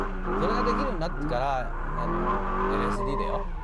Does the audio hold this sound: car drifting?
yes